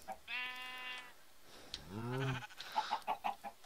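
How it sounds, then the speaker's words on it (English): Chickens in a video game give faint, short clucks and bleating calls, a few separate bursts near the end of a quiet stretch. "I can deal with four chickens."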